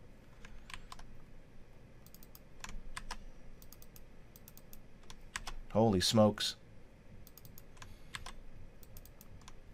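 Someone types on a computer keyboard in scattered clusters of clicking keystrokes, fairly close, with a short spoken exclamation partway through.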